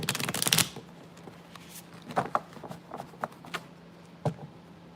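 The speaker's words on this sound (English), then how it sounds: "Why can't I shuffle tonight?" Cards being shuffled for a tarot-style reading: a quick riffling burst up front, then scattered soft taps and flicks as the deck is handled, close and fairly quiet.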